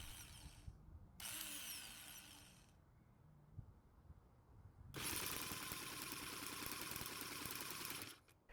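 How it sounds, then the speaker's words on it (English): Handheld jump starter cranks a Troy-Bilt 4-cycle string trimmer engine in close, loud, rapid whirring bursts, with a short spin, a pause of mechanical clatter, then a longer sustained crank that stops abruptly. "The jump starter was able to spin the engine over and we got a reading around 92 psi."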